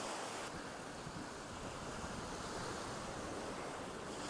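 Steady seaside breeze and breaking surf on a shore at sunset, a constant broadband wash of waves with wind buffeting the microphone, loud and unbroken throughout with no voices.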